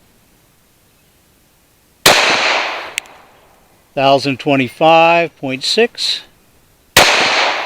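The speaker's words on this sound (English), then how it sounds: "We'll do another 5 shots." Two sharp, loud pistol shots from a Glock 43X fired over a chronograph at an outdoor range, spaced several seconds apart, each with a short ringing decay, and a voice speaking between them.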